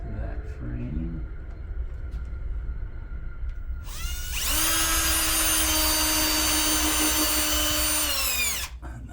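A cordless power drill boring a hole into a pull-down blind frame during installation, starting after a few quiet seconds and whirring loudly at a steady high pitch for about four seconds before stopping abruptly.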